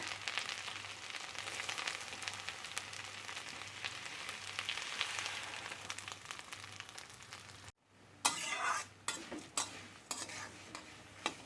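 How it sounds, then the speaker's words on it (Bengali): Dal is tipped into a tempering of five-spice and chopped ginger and stirred; a continuous oily sizzle runs for several seconds, breaks off briefly, then returns as sharper scraping stirs and crackles. "দিয়ে দিচ্ছি 5 ফোড়ন। দিয়ে দেবো আদা কুচি। এবার দিয়ে দেবো ডাল।"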